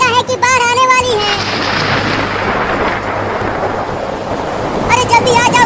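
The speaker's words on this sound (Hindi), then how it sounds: "बादल गरज रहा है और बिजली भी गिर रही है" A heavy rumble of thunder rolls through steady rain, loud and close, with bursts of speech before and after.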